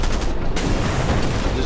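Dense, continuous booming and crackling gunfire from artillery in a war video game, loud and close, with no pauses across the short stretch.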